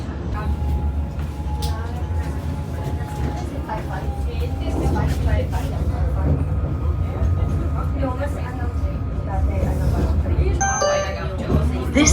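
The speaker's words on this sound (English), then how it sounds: "While I wait for this tram to arrive" A Sydney tram pulls into a city stop, a low steady rumble with rising motor whine, a few chime-like dings and brake squeals near the end, heard up close while people chatter in the background.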